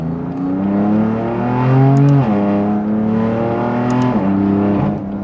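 A BMW F8X sports car with a GTMore cat-back exhaust revs loudly and close, rising in a deep throaty roar, dropping briefly, then climbing again in a second rev.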